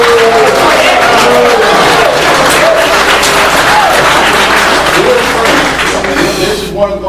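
A debate audience at Western Carolina University claps and cheers loudly in a steady, dense wash of applause and shouting that carries through the whole stretch, with voices rising over it.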